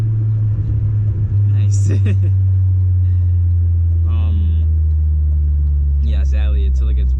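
An Audi B6 A4 with a full ECS catback exhaust cruises at night, a deep steady exhaust drone dominating the cabin with engine pitch shifting slightly, while someone speaks briefly over it.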